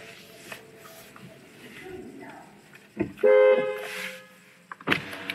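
A car horn at a gate gives a short toot followed by a longer, louder honk, with a brief blip near the end, over faint background noise and a person speaking.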